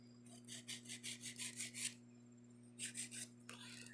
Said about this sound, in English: Make sure you get around the cuticle with your filing routine.